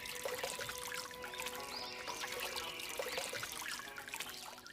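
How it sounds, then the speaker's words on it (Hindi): Water pours and trickles steadily onto three trees for a few seconds, a soft, continuous splashing with no voices. "वह एक एक करके तीनों वृक्षों को पानी देती है।"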